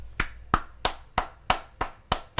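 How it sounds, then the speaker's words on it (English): A single person claps eight sharp, evenly spaced times at close range, each hand clap crisp and distinct against a quiet background, with no talking. "The reason why I'm clapping about this hard"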